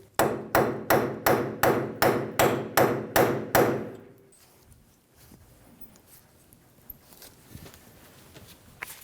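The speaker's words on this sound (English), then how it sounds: "Using a saw face hammer, we're going to hit the axle trying to free up the splines in the hub." Nine loud, evenly spaced hammer blows from a saw face hammer strike the axle of a 2005-2015 Toyota Tacoma to free the splines in the hub, then the ringing stops and only faint shop noise remains.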